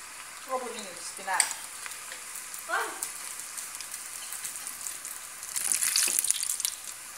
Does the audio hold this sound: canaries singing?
no